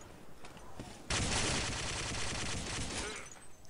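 Gunfire in Day of Defeat, a World War II shooter game: sustained rapid automatic bursts that start abruptly and run loud for about two seconds, with quieter scattered shots before and fading after.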